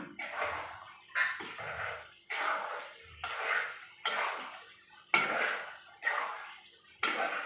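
Chicken curry gets stirred in a pot, rhythmic scraping strokes of a ladle against the metal repeating about once a second, close and moderately loud, with no one speaking.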